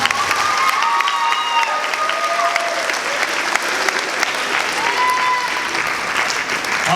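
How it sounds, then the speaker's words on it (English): A school crowd at a senior signing day applauds the guidance counseling staff with loud, sustained clapping, while faint whistles or cheers and a few voices rise over the steady din. "If we could give them a round of applause at this time."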